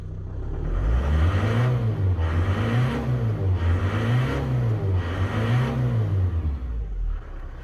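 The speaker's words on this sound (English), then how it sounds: "this is a push-rod engine" A Ford Transit van's push-rod engine, worn and smoking, runs close by with a low rumbling idle that swells in repeated rev surges, about four rises and falls, steady and loud throughout.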